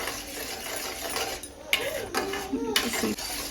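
A ladle stirring a thick mango sweet with cashews in a pan, with steady scraping and a few metallic knocks against the rim over a low background hiss.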